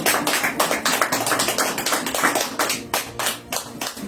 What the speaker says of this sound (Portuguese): Louva o Senhor Jesus com as suas palmas